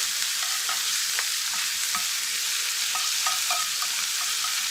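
Venison sizzles in butter in a frying pan while a utensil stirs it, giving a steady close hiss broken by light, irregular scraping ticks.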